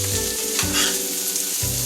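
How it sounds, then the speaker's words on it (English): Collard greens with bacon and onions fry in a skillet with a steady loud sizzle, turned over with a few scraping strokes, no voices. "like turn it over a little bit until it cooks down"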